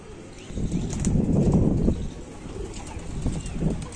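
Breeding Sialkoti pigeons coo low and throaty close by, with a few quick bursts of flapping wings breaking in among the calls.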